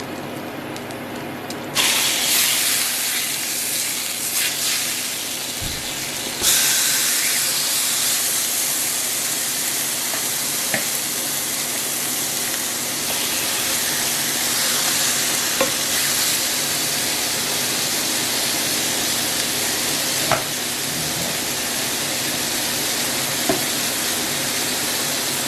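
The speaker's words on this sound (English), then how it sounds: "just really quickly pan fried cabbage" Cabbage pan-frying in a little oil, a continuous close sizzle and hiss that grows louder after a few seconds, with occasional faint clinks and stirring sounds.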